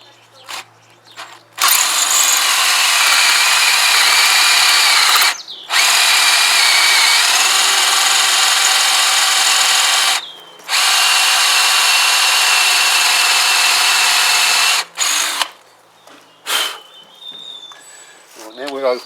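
A power drill grinds into a metal engine part of a Kawasaki BN125 Eliminator motorcycle in three long, loud runs separated by short pauses, followed by a few brief bursts and clunks.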